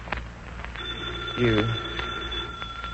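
A phone keeps ringing with a steady electronic tone, and a brief voice breaks in partway through.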